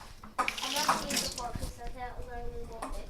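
A spoon rinsed under a running tap while making homemade toothpaste: a sudden splash of flowing water close by, continuing for a few seconds with a voice speaking over it.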